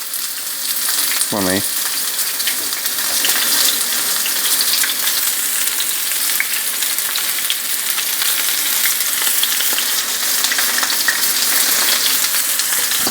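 Shrimp and mushrooms fry in a pan for spaghetti, giving a steady, loud sizzle that runs unbroken throughout, with a brief spoken phrase near the start.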